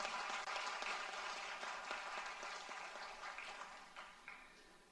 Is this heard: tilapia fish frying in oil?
no